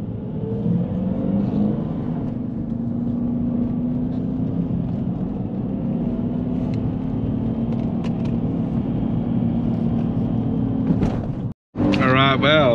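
Interior of a Subaru Liberty Spec B being driven, with a steady low engine and road drone filling the cabin, a brief cutout near the end, then a short burst of voice.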